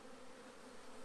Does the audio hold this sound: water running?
no